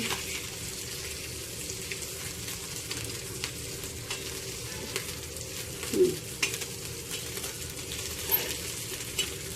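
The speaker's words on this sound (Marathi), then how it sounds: "पुन्हा एखाद मिनिटभर त्यांना खालच्या बाजूने फ्राय होऊ द्या" Mudskipper fish frying in a pan with turmeric and salt, a steady sizzle with occasional louder crackles and a brief scrape as they are turned.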